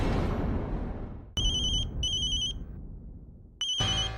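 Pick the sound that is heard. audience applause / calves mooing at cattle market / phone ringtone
phone ringtone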